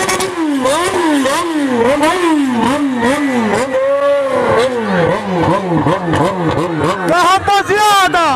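A motorcycle engine revs repeatedly in quick rising and falling bursts, loud and close, with a voice talking over it.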